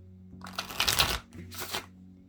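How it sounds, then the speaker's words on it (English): A tarot card deck being shuffled in two quick riffling bursts, close up, with a short pause between them and no talking. "I'm going to do a quick shuffle to get through this."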